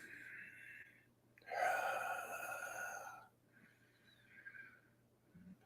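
A person draws one deep, drawn-out breath lasting under two seconds, close and fairly loud, framed by softer, quieter breathing before and after.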